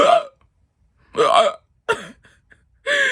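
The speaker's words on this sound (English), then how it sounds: "my hiccups are loud, like especially if the classroom is quiet" Loud, sharp hiccups erupt one after another, four separate jolts spaced about a second apart, close and clear against a quiet background with no talking.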